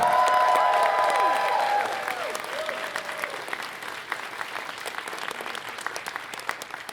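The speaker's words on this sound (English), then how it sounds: "Please give them a round of applause too." A convention audience applauds the Westin Harbour Castle Hotel hosts during Furry 360 closing ceremonies. Broad clapping with faint cheering and whistle-like tones starts strong, then thins into scattered claps.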